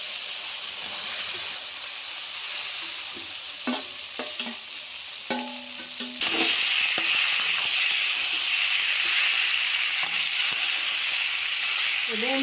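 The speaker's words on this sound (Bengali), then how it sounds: "মশলা থেকে তেল ছেড়ে দিয়ে এবার আমি কষা সবজিগুলো ঢেলে দিই।" Sautéed vegetables tipped into spice paste frying in oil for a traditional Bengali vegetable and fish-head ghonto: a few scraping clatters, then a loud, steady sizzle and hiss that takes over and holds to the end, with no talk.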